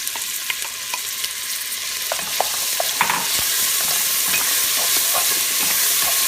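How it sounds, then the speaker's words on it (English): Onions sizzle steadily in hot oil for a beef curry, a loud continuous crackling hiss with small pops and spoon scrapes throughout. "add our onions to the oil here, and that's what you want to hear, is that sizzle"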